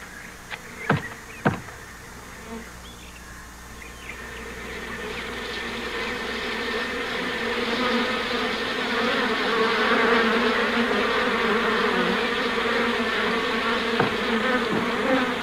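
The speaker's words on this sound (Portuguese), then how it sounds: "Ao capturar as abelhas e levá-las para casa" Honeybees from a wild hive buzz in a dense, continuous drone that swells louder and fuller after a few sharp knocks near the start, holding steady and close with no voices.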